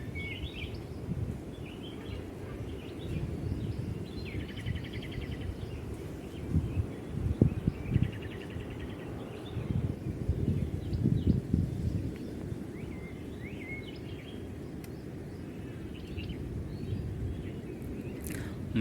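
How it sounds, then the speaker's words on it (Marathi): Several different wild birds call through a forest, scattered chirps and trills at varying distances over a steady low rustle, with occasional nearby thumps and movement. "म्हणजे अलग अलग पक्ष्यांचे अलग अलग आवाज येत आहेत"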